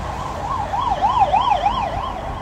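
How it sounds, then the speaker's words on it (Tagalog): An ambulance siren wails, rising and falling in a steady repeating pattern over low road rumble, fairly close and loud. "Hindi, pambulansya yan."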